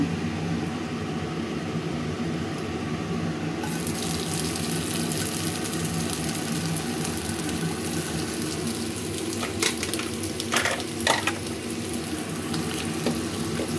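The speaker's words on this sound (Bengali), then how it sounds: "আর একটু সরিষার তেল দেব চিংড়ি মাছের জন্য" Mustard oil added to a pan for shrimp sizzles with a steady, dense hiss that fills the whole stretch, close and even, with a few brief crackling spurts near the end and no talking.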